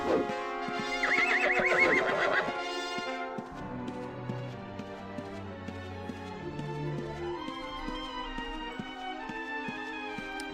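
Horse in the Ultima Online video game whinnying sharply at the start, then clip-clopping hoof taps over layered game music, no voices.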